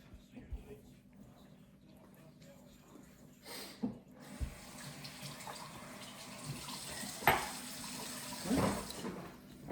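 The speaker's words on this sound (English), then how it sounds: "I need to wash my hands." Hands are washed under a running kitchen tap during a cooking challenge, water splashing and gushing more strongly in the second half with irregular bursts, while people talk nearby.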